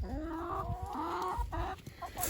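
Chickens cluck and murmur close by in a soft, continuous chatter, with a few rising calls and no talking.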